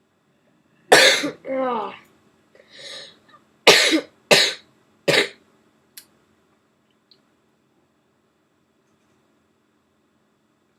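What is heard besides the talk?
coughing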